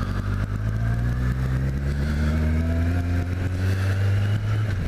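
Motorcycles on a group ride out in Swansea, a loud, close engine drone rising steadily in pitch as the bikes accelerate, continuous with no talking.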